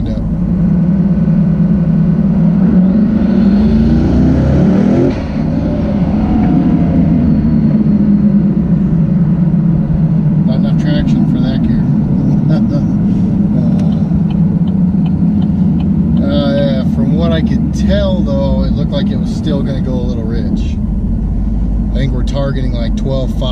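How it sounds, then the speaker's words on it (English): A tuned car with warmed-up oil drives around the block, its steady engine rumble loud and continuous throughout, shifting pitch as it accelerates, with faint road and cabin noises toward the end. "We'll go spin around the block real quick and see where we end up."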